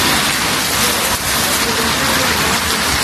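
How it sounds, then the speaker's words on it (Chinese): Rain falling outdoors in the countryside, a dense, loud and constant hiss of drops across the whole short stretch, with no talk over it. "又下雨了啊，朋友们"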